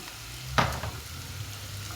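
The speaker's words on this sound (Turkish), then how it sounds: "Bunu da güzelce kokusu çıkana kadar kavuralım." Tomato paste and beans fry in a pan, giving a low, steady sizzle, with one sharper stir or scrape near the start, heard close and moderately quiet with no talk.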